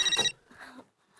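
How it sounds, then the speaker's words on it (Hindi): A brief electronic phone ring, a bright warbling tone cut short after a fraction of a second, then near silence. "मम्मा का फोन आया है"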